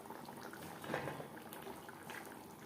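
Tilapia pieces simmering in a spicy fish curry gravy, giving a steady low bubbling and boiling hiss at moderate volume, with a slightly louder burst of bubbles partway through and no voices.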